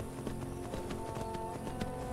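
Horse hooves clip-clop steadily at a trotting rhythm as a mount moves along in Skyrim, close and clear over a faint musical backdrop.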